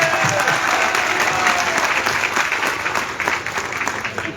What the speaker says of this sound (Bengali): একটা হাততালি হবে না ওর জন্য?